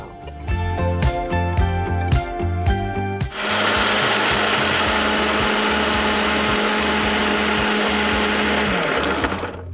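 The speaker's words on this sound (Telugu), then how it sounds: "దీన్ని మనం మిక్సీ పట్టేయాలి." A mixer grinder blending batter with a little water whirs in short pulses, then runs in one loud continuous roar for several seconds before cutting off.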